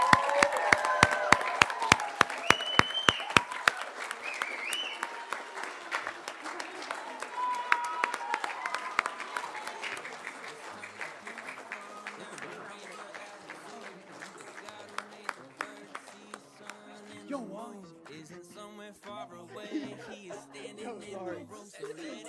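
Applause for two high school graduates at a graduation ceremony, starting with sharp distinct claps near the mic that thin into a scattered, fading patter, with voices and chatter rising beneath toward the end.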